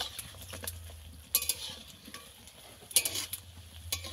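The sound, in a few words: nimki dough frying in oil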